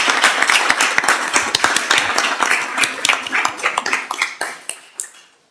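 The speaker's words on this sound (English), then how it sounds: "I think we need to give Ms. Bell a round of applause" A room of people at a county Board of Supervisors meeting clap for Ms. Bell. Individual claps stand out sharply, starting busy and thinning into scattered, slowing claps before the applause dies away. Nobody speaks.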